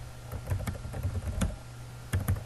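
Soft, fairly close computer keyboard typing runs in irregular clusters of key clicks over a low steady hum, with no voices.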